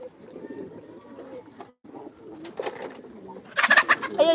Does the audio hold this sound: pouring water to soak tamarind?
no